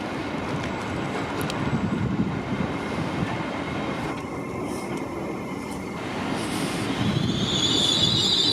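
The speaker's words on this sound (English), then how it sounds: "And coming now on platform 3A is the Azuma service." An Azuma class 801 train pulls into platform 3A at Peterborough station, a steady loud rumble of wheels and rail noise with a rising high-pitched squeal near the end, no voices.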